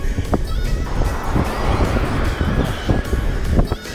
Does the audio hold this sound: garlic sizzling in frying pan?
no